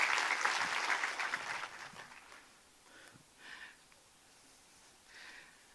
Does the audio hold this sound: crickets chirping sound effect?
no